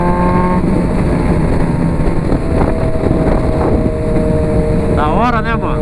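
A Honda CB 1000R motorcycle rides on a highway, its engine droning under heavy wind noise, with a brief rising rev near the end as the throttle opens.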